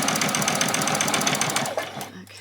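A sewing machine runs continuously, stitching a doll's dress, a steady rapid mechanical whir that stops near the end.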